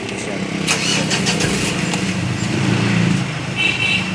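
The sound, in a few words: Mitsubishi Montero 2015 engine starting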